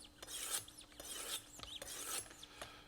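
A knife blade is honed on a 600 grit stone of a Wicked Edge Carbon WE40 sharpener, giving a series of rasping strokes about every half second, close and fairly quiet with no talk.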